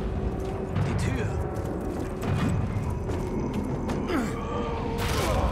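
A door mechanism in the Dying Light 2 video game creaks and groans through several grinding, clattering bursts, mixed with other game sounds and voices.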